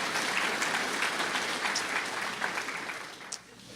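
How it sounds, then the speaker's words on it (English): Audience applause for a junior music class at a competition's preliminary round: steady, dense clapping that holds loud, then thins slightly toward the end, with a faint voice underneath. "Let's give the whole group a round of applause for their efforts today."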